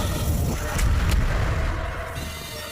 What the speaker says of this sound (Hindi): दोनों नागों को तोप से उड़ा दो।